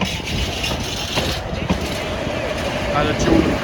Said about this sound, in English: The rest of the containers on this freight train.